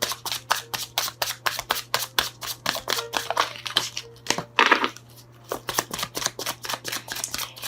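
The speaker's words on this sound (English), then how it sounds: "And while I'm shuffling" A deck of tarot cards is shuffled by hand: close, crisp riffling bursts repeat in a steady rapid rhythm, with one longer crinkly flutter midway, under a faint constant hum; no talking.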